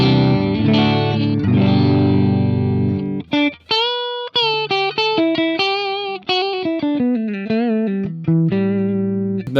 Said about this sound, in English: that then gives us both humbuckers, and that sounds like this.